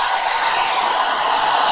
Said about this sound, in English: Sandwich machine and the hair dryer.